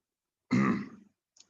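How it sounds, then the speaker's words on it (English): An adult clearing their throat once in a quiet room, a short rough rasp up close, followed by a tiny faint click. "it's usually me trying to clear my throat somehow"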